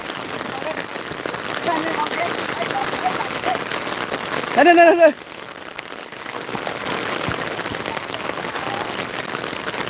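Heavy rain falls steadily on a football field where boys are playing, a continuous dense hiss throughout, with brief shouting voices breaking through midway.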